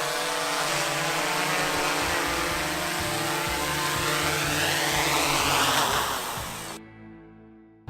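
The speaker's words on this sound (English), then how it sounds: "Drone is right here." A drone hovers nearby with a loud, steady buzzing whine of its propellers, holding constant for several seconds before cutting off abruptly near the end.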